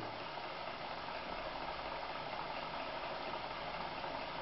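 A Vickie model hot air engine running, giving off a steady, even mechanical whir with light rattle and no change in pace, close by and alone.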